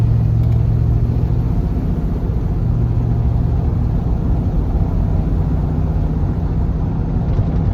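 A 1982 Jeep Wagoneer Limited cruises along with its rear window open. A steady, loud, low exhaust drone and road rumble fill the cabin continuously, with no talking.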